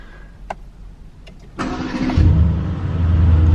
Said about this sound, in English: I'm just going to fire her up actually. Go, why not? Let's fire her up.